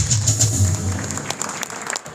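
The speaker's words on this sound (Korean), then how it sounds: "우리 찬양대원들 다시 한번 큰 박수로" Applause welcoming church choir members at an outdoor worship rally in front of the Blue House, a steady crowd clapping that carries on for a couple of seconds, then thins toward the end.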